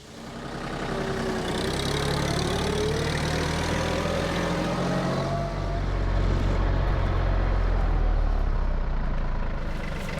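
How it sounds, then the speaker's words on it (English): A small 24-horsepower tractor engine running steadily up close, a continuous low rumble with a faint rising whine partway through. "I'm going to use the 24 horsepower tractor"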